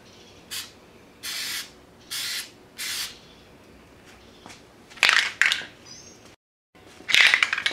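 Short hissing bursts of spray wrap from an aerosol can coat red Tesla emblems, with several evenly spaced squirts followed by harsher rattling sprays, near and fairly loud, with a brief silence near the end.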